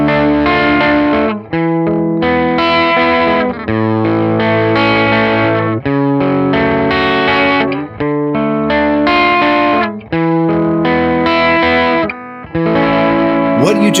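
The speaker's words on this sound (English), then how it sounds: "It's a neural amp modeler." An electric guitar run through a neural amp modeler plays distorted, chorus-tinged chords in loud sustained strums with brief gaps between phrases.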